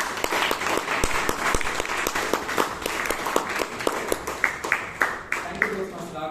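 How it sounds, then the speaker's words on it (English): Audience at a Toastmasters club meeting in Bangalore applauding, a steady wash of many hands clapping throughout, with sharper individual claps standing out near the end as the applause thins. "Let's once again give a good applause to Toastmaster Raghavendra."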